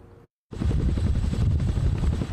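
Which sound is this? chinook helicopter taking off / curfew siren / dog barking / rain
chinook helicopter taking off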